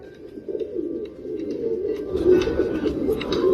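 A pigeon coos in soft, low, repeated rounds that rise slightly in strength toward the end, close by, over faint background rustle and no speech.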